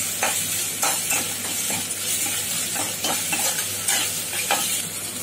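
Ridge gourd curry stirred in a frying pan, a utensil scraping in steady strokes over a soft continuous sizzle, close and moderately loud with no talking.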